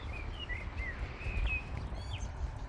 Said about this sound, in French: On entend les oiseaux ici.